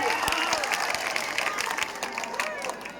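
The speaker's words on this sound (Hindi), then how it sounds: "सब लोग जोर से ताली बजाइए" A crowd claps at a temple courtyard event, scattered, uneven hand claps and crowd noise that gradually taper off, with background chatter and a voice mixed in.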